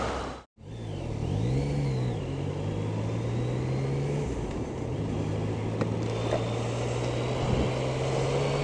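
A Yamaha XSR 900 three-cylinder motorcycle engine idles and blips steadily close by, a strong low hum holding through most of the stretch with brief rises and a short cut near the start.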